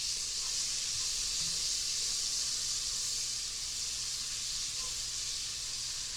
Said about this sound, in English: Now we're going to start out melting the butter in a 6-quart pot.